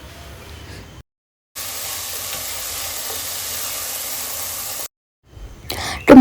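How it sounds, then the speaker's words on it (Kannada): Chopped vegetables and halved tomatoes fry in a pan, a steady broad hiss and sizzle held for several seconds between short silent gaps, close and loud, ending in a louder clattering burst. "ಆ ತರಕಾರಿ ಎಲ್ಲ ಚೆನ್ನಾಗಿ ಫ್ರೈ ಆದಮೇಲೆ ಅರ್ಧ ಕಟ್ ಮಾಡಿ ಇಟ್ಕೊಂಡಿರೋ ಟೊಮ್ಯಾಟೊ ಹಾಕ್ಕೊಳ್ತಾ ಇದ್ದೀನಿ"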